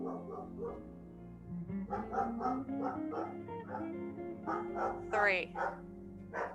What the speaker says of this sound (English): I think the mailman's here. I don't know if you can hear my dog barking.